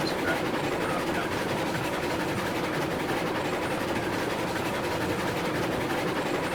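A train rolls along the tracks in Railroads Online, a steady rumbling clatter of wheels and cars that holds at an even, moderately loud level throughout with no pauses.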